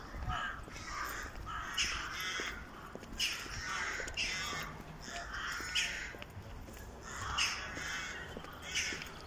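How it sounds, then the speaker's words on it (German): Ravens caw from high above in a cold, sunny town centre of Rumburk, repeated harsh calls arriving in short bursts every second or so, distinct but somewhat distant over faint street ambience. "Da oben die Raben."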